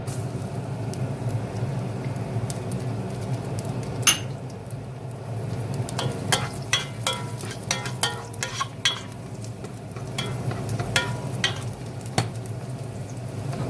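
Garlic frying in hot oil in a pan for ginisang monggo with pork and spinach, a steady sizzle with scattered sharp clicks and taps of a utensil stirring, no voices.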